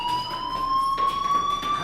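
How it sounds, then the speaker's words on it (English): A fire alarm rings in the video game Life Is Strange, a steady high electronic tone sounding continuously and loudly throughout, with a faint wash of background noise beneath. "Hey, do you hear that fire alarm?"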